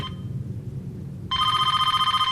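A telephone bell rings loudly in steady repeated electronic pulses after a short stretch of quiet room hum, with no voices.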